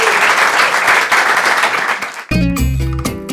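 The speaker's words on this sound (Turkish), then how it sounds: "alkışlıyoruz burası." Studio audience on a Turkish late-night talk show breaks into dense, loud applause that continues for about two seconds before cutting abruptly to music.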